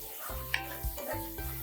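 Ginger garlic paste and turmeric fry in a pan with a soft steady sizzle, punctuated by a few light scrapes and clinks of stirring.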